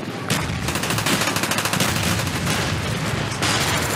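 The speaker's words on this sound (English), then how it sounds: "You can shoot randomly and you kill somebody." Gunfire in an online shooter game: dense, sustained automatic bursts of rapid shots, loud and continuous throughout with no speech.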